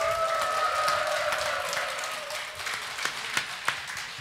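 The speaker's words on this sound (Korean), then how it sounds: "박수가 엄청 크게 나오고 함성이 엄청 크면 한 분이 나오세요" A studio audience at a singing lesson claps, a soft, steady wash of applause with a few sharper claps standing out near the end.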